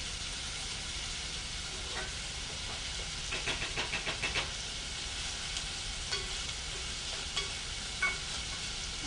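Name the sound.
food sautéing in a pan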